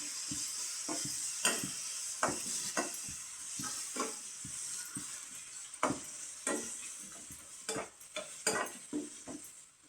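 Tomato softens in hot oil in a pan over a quiet, steady sizzle, with repeated clinks and scrapes of a spoon stirring against the pan throughout.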